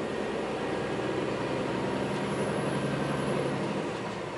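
A Scania truck drives with a loud, constant engine drone and road rumble heard from inside the cab, the steady roar showing no clear breaks at gear changes.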